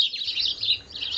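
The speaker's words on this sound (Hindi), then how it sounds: "चिड़िया बोल रही हैं" Small birds chirp close by in a quick, continuous stream of high tweets and twitters lasting a moment, with no voices.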